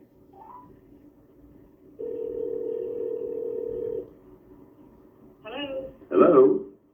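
A telephone tone holds steady for about two seconds during an attempt to call someone, set between stretches of quiet talk, with a voice speaking briefly afterward.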